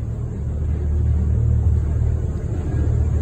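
An old LiAZ-677 retro bus rumbles along in a low, steady engine drone with a faint rattle, heard from inside the cabin without talk.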